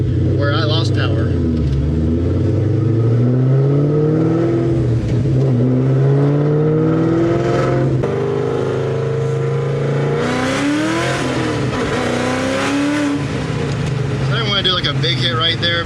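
A cammed Ford Terminator Cobra engine revving hard during a power run, a loud, continuous roar with rising and falling tones through gear changes, with someone talking over it.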